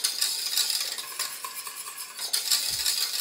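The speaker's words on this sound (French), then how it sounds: "on remet le gaz et on vient remuer jusqu'à ce que ce soit à ébullition" Pastry cream being stirred in a pan over a gas flame until it comes to a boil, a continuous close scraping swish of whisk or spoon against the pan with a faint simmer beneath, no voices.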